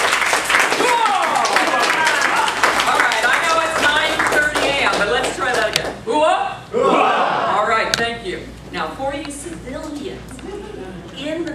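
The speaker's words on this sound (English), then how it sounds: "So let's bring her up with a round of applause" Audience at a Toastmasters fall conference applauding, a dense, loud wash of clapping with cheers and crowd noise that thins out after several seconds into scattered claps and voices.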